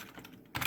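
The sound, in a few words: typing a command on a computer keyboard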